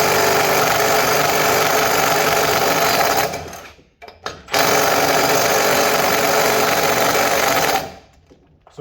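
A Milwaukee stubby impact wrench hammers loudly and continuously while breaking sockets in a torque test, running in two long bursts split by a short gap, with no voices.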